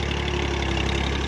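A tractor engine runs in a flood-soaked field, a loud, steady idle with an even low throb and continuous mechanical drone, heard alone.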